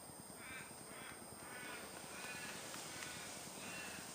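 A crow caws several times in a rhythmic series, distant and faint over a quiet outdoor background.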